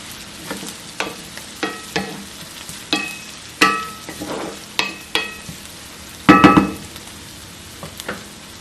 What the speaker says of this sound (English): now I'm gonna add this ginger and cook this ginger for